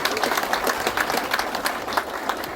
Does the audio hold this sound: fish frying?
no